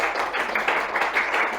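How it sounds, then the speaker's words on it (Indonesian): A classroom group applauds after a class presentation, with brief, steady, moderately close clapping from several people. "Kemudian kita berikan aplaus semua untuk kita hari ini"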